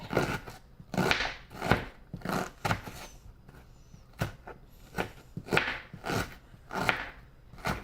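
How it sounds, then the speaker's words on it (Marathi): A knife finely chops vegetables for pav bhaji on a cutting board, giving bursts of quick, crisp taps with short pauses between them. The chopping is close and moderately loud, and no one talks over it. "मग पुन्हा जवळ असं बारीक बारीक कापायचं. अगदी बारीक बारीक कापायचं."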